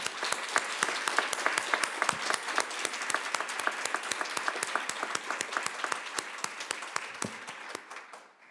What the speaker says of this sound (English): another round of applause for all the amazing panelists we had today